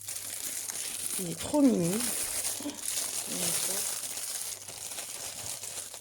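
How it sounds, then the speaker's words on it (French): Paper wrapping crinkles and rustles close by as a purchase is unwrapped, steady and noisy across the whole stretch, while someone speaks briefly over it. "je vais parler après parce que le papier fait énormément de bruit"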